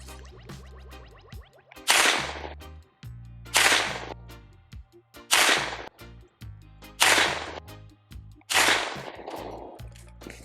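Smith & Wesson Response 9mm AR-9 carbine firing S&B hollow-point rounds outdoors, five loud, sharp single shots spaced about every second and a half, each with a short decaying echo.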